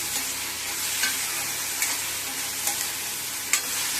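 Bitter gourd sautéing in oil in a pan, a close, continuous sizzle and hiss with periodic scraping strokes of stirring.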